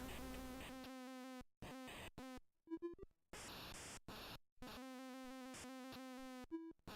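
In the Commodore 64 game Greenhouse, a bee's electronic buzz drones in choppy bursts broken by abrupt silences, mixed with short chirpy blips and hissy noise from the game.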